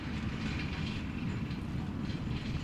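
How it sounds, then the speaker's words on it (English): A tractor hauling hoses drives past near fields and a cycling path by Amsterdam Schiphol Airport, giving a faint, steady low engine rumble with no talk over it. "Agricultural vehicles are also on the move over here."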